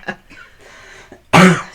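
A person with a cold gives a short cough, then after a brief pause a loud, harsh throat-clearing cough close to the microphone, alone without talk.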